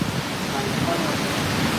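Heavy rain and strong storm wind make a dense, continuous roar with no pauses, loud and close throughout.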